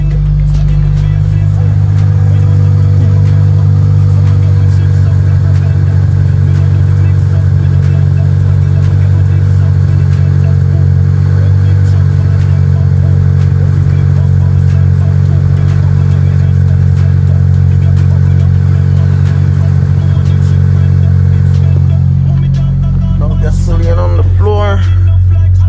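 A Toyota Celica engine idles steadily with a deep, even hum, close and loud, holding constant for most of the stretch before a brief change in tone near the end.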